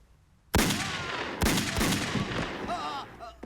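Stock library gunshot effects from New Line's remix of the Police Story film: two loud, close blasts with long ringing tails and a scattered crackle of shots trailing off, no speech.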